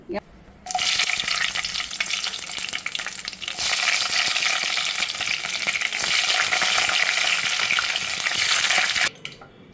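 Four green chilies frying in an open pan, a loud continuous sizzle that rises sharply after a quiet start, swells louder midway and cuts off near the end, with stirring noises mixed in.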